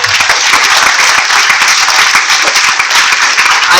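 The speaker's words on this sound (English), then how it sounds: "I'm sure you know that you're going to clap again" Dense, steady clapping from a conference audience at an aviation careers event, loud and continuous for several seconds with no speech over it.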